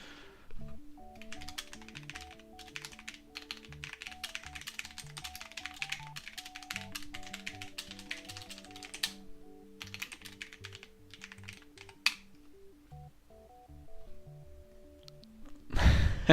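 Fingers type quickly on a computer keyboard in a dense run of soft clicks that stops briefly and then starts again. Quiet music plays underneath, and a burst of noise comes at the end.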